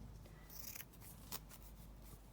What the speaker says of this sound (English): I'll just do that sort of cut tear thing, you know, where you kind of like tear it along the blade of the scissors